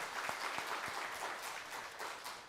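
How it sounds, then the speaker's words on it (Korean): Church congregation applauding together after a choir and chamber ensemble performance, a steady, even wash of clapping throughout with no voices on top. "우리 박수하겠습니다"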